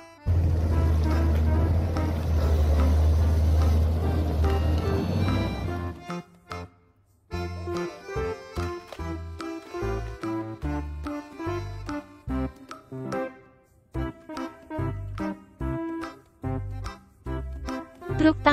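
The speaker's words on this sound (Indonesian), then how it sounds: "Forklift." A toy forklift rumbles with a steady, low, motor-like drone for about six seconds, falls silent briefly, then plays a chirpy electronic melody of short, punchy notes.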